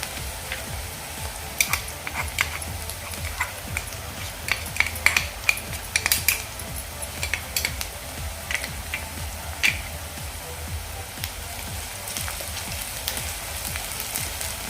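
Crushed ginger-garlic paste sautés in a pan over a high flame for bombil masala, a steady low sizzle broken by scattered sharp clicks of a spatula stirring, close by with no talk.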